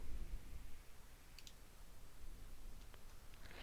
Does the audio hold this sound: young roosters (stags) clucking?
no